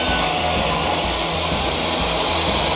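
A table saw makes a crosscut guided by a miter gauge, its loud continuous whine and cutting roar filling the clip at close range.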